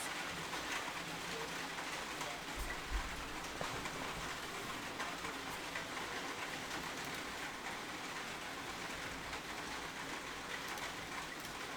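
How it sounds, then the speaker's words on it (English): Steady rain falling outside an open window, a continuous dense hiss holding even throughout, with faint scattered clicks and low rumble mixed in. "Yeah, sound of rain is real. I need to close my window 1 second."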